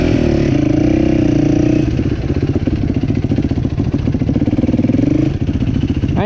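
A dirt bike engine runs loud and close throughout, its pitch climbing and falling as it is revved, with clattering mechanical noise under the steady roar.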